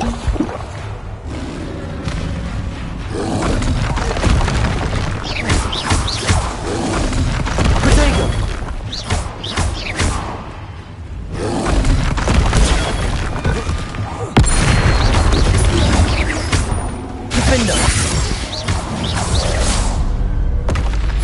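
Incendio fire spell blasts in Hogwarts Legacy, loud booming bursts and crackling roar in a dense, continuous battle mix with music and effects layered throughout, and a voice calling out over it.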